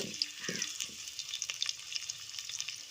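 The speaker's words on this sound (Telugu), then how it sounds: "ఆనియన్స్ దోరగా వేగేంత వరకు" Onions frying in a pan for an Andhra-style stuffed brinjal curry give a steady, close hiss of sizzling oil, with a few soft stirring thumps early on and no talking.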